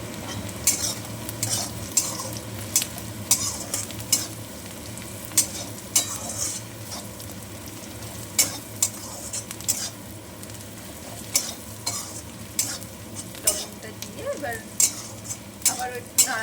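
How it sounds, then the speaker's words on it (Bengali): Onions fry and sizzle in a pan while a utensil stirs them, giving a steady sizzle punctuated by regular scraping clacks against the pan, close and fairly loud. "নাড়াচাড়া করে নিচ্ছি যাতে পেঁয়াজটা একটু নরম হয়ে যায়।"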